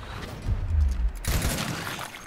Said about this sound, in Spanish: vamos a lanzarle un disparo inutilizante a este